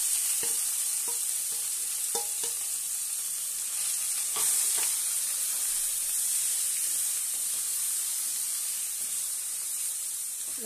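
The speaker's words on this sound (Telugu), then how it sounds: "పోపు వేగింది కదా దీంట్లో మనం తీసి ఉంచుకున్న పచ్చడి వేసేయండి" Cabbage chutney frying in a hot dry-chilli tempering, with a steady sizzle and hiss throughout and a few soft scrapes and taps of stirring, close and alone.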